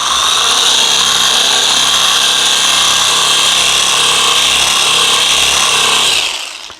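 A 20 mm scraper sander fitted with 80-grit abrasive runs at full speed, a loud, steady high whine with a constant rasp that holds for about six seconds before cutting off.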